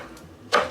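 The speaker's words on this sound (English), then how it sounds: "I'm gonna get my handy dandy knife and I'm just gonna chop my spinach." One crisp knife chop on a cutting board through fresh spinach, stems and all, lands near the end after a quiet pause, close and fairly loud.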